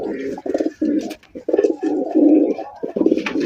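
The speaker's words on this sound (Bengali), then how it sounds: "রাজশাহী হাই ফ্লাইং গিরিবাজ কবুতর দেখতে পাচ্ছেন" Rajshahi high-flying Giribaz pigeons coo in repeated low, throaty bursts, close and fairly loud, with a few brief pauses between phrases and faint chirps above.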